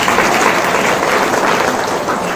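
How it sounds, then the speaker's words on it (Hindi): An audience at a spiritual talk claps together, a dense, loud, continuous patter of many hands held at an even level throughout, with no speech breaking through. "ताली बजा भाई जी"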